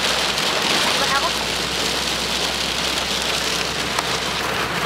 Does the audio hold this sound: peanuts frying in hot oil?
no